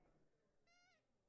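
A single short squeak from a vintage rubber toy cat, faint and tonal, lasting under half a second with quiet surroundings.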